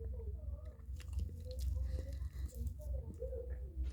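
Someone bites into a cookies and cream cupcake and chews it, with soft, close, moist squishing and light crunching over a few seconds and no talking.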